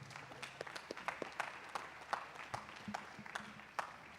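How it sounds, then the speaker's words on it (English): Scattered, sparse clapping from a crowd, with uneven claps popping out over a low background murmur. "can we get a round of applause for everyone who's gave a speech so far?"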